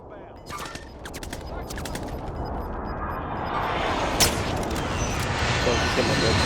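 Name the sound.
precision airstrike with gunfire in a video game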